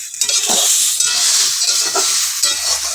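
Vegetables sauté and get stirred in a covered pan for a fish and gram-flour kofta curry, giving a steady close sizzle of frying throughout with scraping stir strokes and soft clinks breaking through, no talking.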